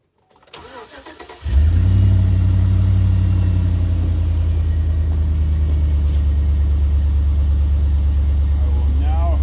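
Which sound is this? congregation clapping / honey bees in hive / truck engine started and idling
truck engine started and idling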